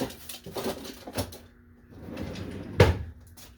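A kitchen drawer full of utensils pulled open and rummaged through, with close, moderately loud bumps, slides and clattering shuffles, no talking.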